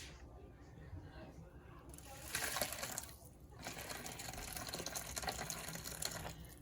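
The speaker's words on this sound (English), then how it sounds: "you wanna pour the juice in" Juice pours steadily into a bowl of ramen noodles in a close, rushing stream, stopping briefly and then resuming, with a faint hum underneath.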